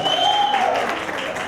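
An audience at an education connectivity panel breaks into loud, dense applause to welcome a panelist, steady and close throughout, with a few high whistle-like tones on top.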